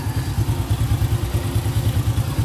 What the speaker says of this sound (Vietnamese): mọi người nghe tiếng máy cảm nhận nha.